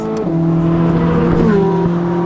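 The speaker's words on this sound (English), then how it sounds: "Engine just revs so freely." A sports car engine revs up with a rising, throaty tone, loud and close, climbing through the revs before easing back slightly.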